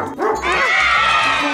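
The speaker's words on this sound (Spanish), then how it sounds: "¡Es el perro!" A cartoon dog barks in a children's farm show, giving a few bright, close yips and bow-wows over a musical backing.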